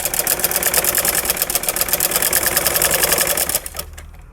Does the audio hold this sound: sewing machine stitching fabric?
yes